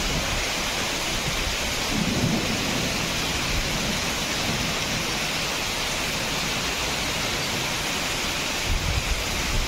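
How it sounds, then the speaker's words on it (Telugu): Heavy rain in a thunderstorm at Kothapeta, Andhra Pradesh: a steady, dense roar of downpour runs throughout, with low thunder rumbles swelling briefly near the start and again at the end. No one speaks. "కొత్తపేటలో ఉరుములు, మెరుపులు, భారీ ఈదురు గాలులతో కూడిన వాన పడుతోంది"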